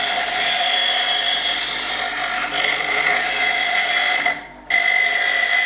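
Bench grinder smoothing the rough ends of metal pieces, a steady loud whine that holds throughout, briefly dropping near the end before resuming.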